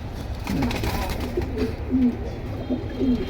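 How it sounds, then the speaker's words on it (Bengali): Military-breed pigeons with large heads coo in a low, repeated rhythm, several close calls in a row, with faint background voices from a pigeon sale in Keraniganj, Dhaka. "মিলিটারি ফ্যাটের কবুতর"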